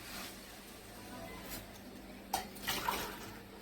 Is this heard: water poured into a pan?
yes